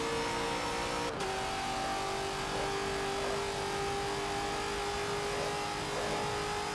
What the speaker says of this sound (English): Alright, my car's about to max out.